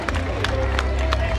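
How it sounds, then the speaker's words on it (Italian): A crowd at a Special Olympics opening ceremony in Venosa applauds loudly and continuously, with dense clapping and some crowd noise throughout. "accogliamoli con un forte applauso."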